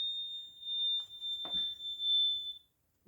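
A Google smart speaker gives off a steady, piercing high-pitched electronic tone that holds for about two and a half seconds and then cuts out, with a brief voice heard faintly partway through.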